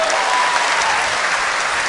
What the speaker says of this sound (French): Ben oui, on peut l'applaudir.